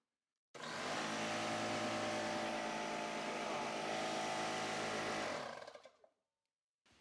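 A small pancake air compressor powered from a budget portable power station starts abruptly and runs in a loud, steady mechanical drone for about five seconds, then winds down and stops.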